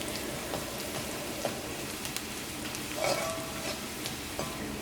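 Turmeric powder sizzling in a hot pan while cooking moong dal thoran, a steady crackling fry with occasional stirring scrapes, close and moderately loud, no voices.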